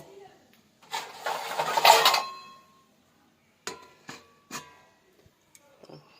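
A metal lid clanks onto a pot of boiling fish in a home kitchen, a loud scraping clatter followed by a few sharp clinks, with talking before and after.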